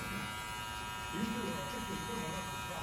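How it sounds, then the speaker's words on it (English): Steady electric hair clipper buzzing continuously up close while cutting a drop fade in a barbershop setting, a constant drone with no pauses. "He's got his clipper halfway open."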